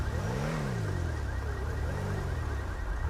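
Car engine in GTA V climbing a garage entrance ramp, with a short rising-and-falling rev near the start, then a steady mid-pitched drone, moderately loud with no talking.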